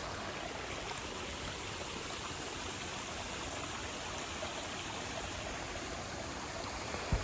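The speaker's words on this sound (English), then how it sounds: "I even found like a stream here again." A small flowing stream in the outdoors, a steady broadband rush and trickle of water running continuously and fairly near, with no talking over it.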